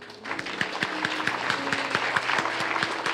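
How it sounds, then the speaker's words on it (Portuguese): Church congregation clapping together in a steady, even rhythm during a worship service, the claps sharp and regular over a low sustained tone, with no talking. "Um aplauso ao Senhor"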